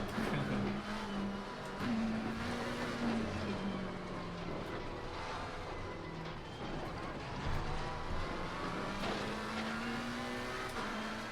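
GT race car engines in Assetto Corsa Competizione during a multiplayer race with a Ferrari and an Audi nearby, a steady droning engine note that rises and falls through gear changes over the whole stretch.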